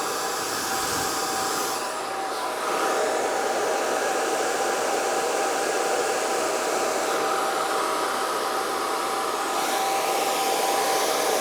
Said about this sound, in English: You don't need to jam your blow dryer nozzle into it